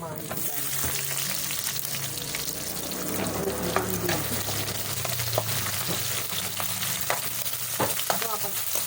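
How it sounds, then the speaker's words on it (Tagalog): Onion is added to browned garlic frying in a pan for a pork dish, making a steady close sizzle with intermittent stirring scrapes throughout and no talking. "So yung brown na yung bawang, ilagay na natin yung sibuyas."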